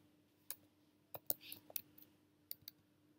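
A computer mouse is clicked on a Mac while software is being installed, giving a few sharp, close, separate clicks spread unevenly over a few seconds against a quiet background.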